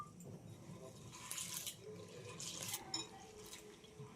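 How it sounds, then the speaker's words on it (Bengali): Coarse sago pearls being washed in water, with soft splashing, swishing and trickling sounds close by at low volume, alone with no talk. "জল দিয়ে সাবুটাকে 1-2 বার ধুয়ে নেব।"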